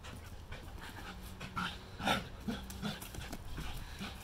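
A dog pants heavily and rapidly up close, with short rhythmic breaths and a few louder huffs, no voices.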